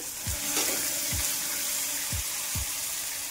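Onion fries in a pan for a ridge gourd curry, giving a steady, close hiss with a few soft, evenly spaced thumps from the pan or spoon. There is no speech.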